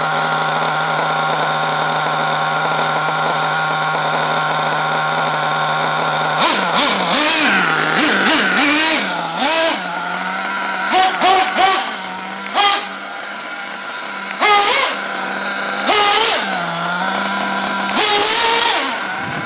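A motorcycle engine on bald tires idles with a steady hum, then is revved hard in repeated bursts, each rising and falling back to idle, loud and close with no talking.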